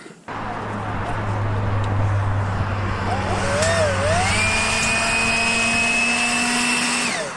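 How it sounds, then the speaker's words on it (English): A leaf blower on a roof-framing construction site drones steadily at close range for several seconds, with whistling pitch sweeps and a rising whine layered over the continuous roar; no speech is audible. "I need that leaf blower."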